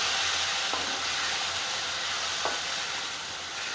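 Steady loud sizzling of a hot oil spice tempering fills the clip, with two brief sharper hissing bursts as water hits the pan, while cooking a black-eyed pea, eggplant and potato curry.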